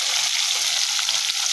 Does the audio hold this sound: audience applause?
no